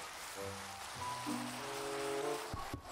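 Rain in the video game Minecraft gives a steady, dense hiss that runs through the whole stretch, while soft, sustained tonal notes drift beneath it and a couple of brief low knocks sound near the end.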